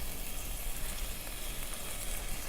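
Thick scallions fry in a pan, giving a steady dense sizzle that fills the whole moment evenly and closely, with no talking over it.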